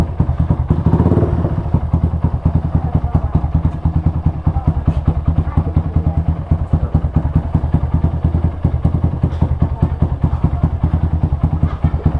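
A Kawasaki ZX-6R motorcycle engine idles loudly and close, a rapid steady chugging with faint clattering, running unchanged throughout.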